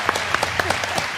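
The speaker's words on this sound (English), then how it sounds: "let's give a round of applause to all our candidates" Audience applause at a candidate forum, a brief burst of clapping from a small crowd in a hall.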